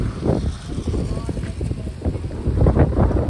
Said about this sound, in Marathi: इथे वारा खूपच सुटला आहे